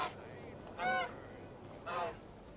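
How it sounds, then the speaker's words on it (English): Two goose honks used as a spooky effect during a Halloween event in a medieval video game, each a short nasal blare, separated by about a second of quiet background. "There's like 2 geese honks to make it almost sound like, I don't know, scary."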